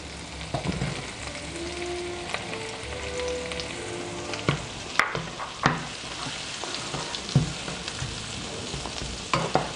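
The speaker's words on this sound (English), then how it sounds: "Just have to cook the onions a bit." Onions and garlic fry in a pan with a steady close sizzle, broken by repeated scraping clicks and knocks of stirring against the pan.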